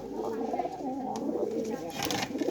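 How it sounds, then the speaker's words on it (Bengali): A pet pigeon coos softly and repeatedly at close range with a low, throaty warble. Faint background noise and possible voices sit beneath it. "বুরহান কবুতরটা রাখো এবং ধরাগুলান একটা একটা করে বের করে দেখাও"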